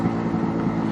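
A small two-stroke engine, freshly run in and tuned on a 55 pilot jet, drones steadily at a fairly constant rev level, loud and close with no gaps or talk.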